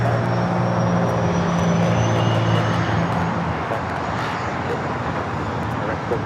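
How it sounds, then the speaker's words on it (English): A Cessna Citation Longitude business jet at LAX, a loud steady engine drone with low humming tones that fade after a few seconds, leaving a softer broad rush, with some background speech. "This is a Cessna Citation Longitude that we're looking at right now"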